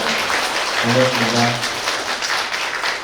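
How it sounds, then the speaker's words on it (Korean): Steady applause from a crowd fills the clip while a voice briefly speaks a greeting over it. "여러분 박수 보내주시죠"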